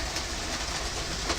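Model DCC train running along its track with a steady clickety-clack rolling sound and constant wheel rumble, close and continuous, no talking.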